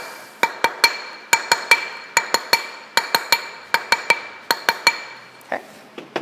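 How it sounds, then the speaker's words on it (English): Metal ring struck with a texturing hammer, a close series of sharp ringing clinks in uneven bursts of two to four blows, each decaying quickly, with no talking. "I'm going to hammer right on over that joint, just smoothing it right in"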